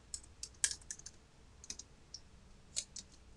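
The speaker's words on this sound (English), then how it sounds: "typing too fast" Quick typing on a computer keyboard during document automation work produces a handful of sharp key clicks in irregular bursts, faint and close, with no talking.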